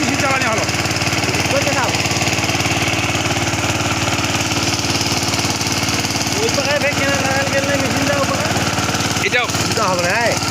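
NIPPON petrol engine driving a 3-inch water pump, running as a loud, continuous, even drone that stays steady throughout, with a voice speaking over it in places.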